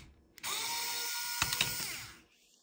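A small electric screwdriver whirs for about two seconds, removing fine-slotted screws from a 1911 pistol during a trigger install, a steady close motor whine that rises and fades out.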